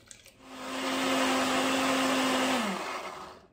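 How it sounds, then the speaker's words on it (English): A kitchen blender whirs up to a loud, steady roar while blending beetroot with warm water, holding a constant pitch for about two seconds before winding down and stopping. "So beetroot are going in my blender, and I am adding some"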